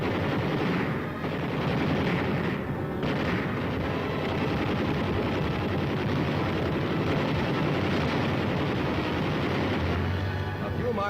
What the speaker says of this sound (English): Red rear guard positions are raked with 50 caliber fire.